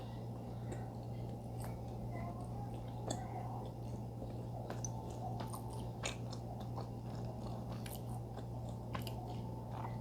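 Close, quiet chewing of a chewy baked snack coated with sesame and tasting of peanut, soft moist bites and squishy mouth sounds repeating over a low steady hum.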